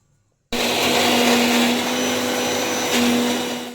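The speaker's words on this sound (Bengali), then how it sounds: "জল না দিলে তো মিক্সিটা ঘুরবে না। একটুখানি জল দিয়ে এটাকে ঘুরিয়ে নেব।" An electric mixer grinder blends peas with a little water, switching on abruptly and then holding a loud, steady whirring drone for a few seconds before winding down.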